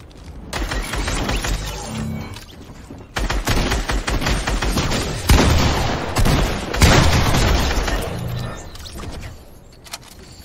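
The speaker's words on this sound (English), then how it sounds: "Let's go shoot some dudes in the face." Shooting in a video game: dense, loud bursts of rapid automatic gunfire with booms and shattering impacts, firing in long stretches with brief pauses between volleys.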